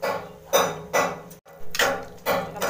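A spoon stirs ground coconut and roasted gram paste into vegetable kurma in a pot, making rhythmic scraping clanks against the pot roughly every half second, close and clear.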